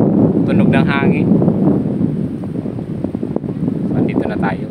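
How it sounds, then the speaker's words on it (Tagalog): Wind buffets a phone microphone outdoors on a walk toward wetlands, a loud rough rumbling roar that swells and dips while a person talks over it. "tunog ng hangin."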